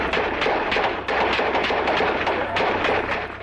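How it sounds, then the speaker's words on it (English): Gunfire from the ATF raid at Waco, a dense sustained barrage of overlapping shots in a noisy recording with a constant low hum, no gaps between bursts, loud throughout. "That is the sound of the first raid that led to the siege when the ATF tried to arrest the leader, Koresh"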